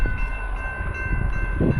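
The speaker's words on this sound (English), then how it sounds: "As you can hear, a metro train's coming." A metro train rumbles steadily close by, with a sustained low roar, a high tonal whine and a louder surge near the end.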